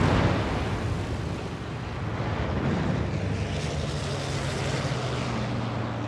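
Steady roar of a fighter plane's engine as it takes off from an aircraft carrier in a naval battle game, loud and sustained with a low droning hum building slightly midway.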